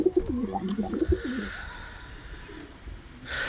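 Young pied pigeons give several close, soft throaty coos in quick succession, then fall quiet into faint rustling and a brief burst of flutter-like noise at the end.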